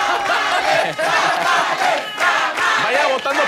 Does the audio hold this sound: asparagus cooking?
no